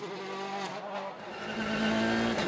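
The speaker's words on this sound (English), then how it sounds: "A big slide out of the hairpin." A rally car's engine drones with steady, strained harmonics as it slides out of a hairpin on rain-soaked tarmac during a wet stage, loud and continuous for a couple of seconds with no voices.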